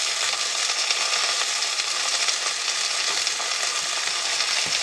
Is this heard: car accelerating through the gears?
no